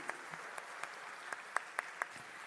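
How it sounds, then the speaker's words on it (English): Scattered applause from the audience at an annual convocation ceremony for diploma recipients, a thin spread of distinct hand claps with a few sharp nearby ones, fairly soft. "a big round of applause for all of you."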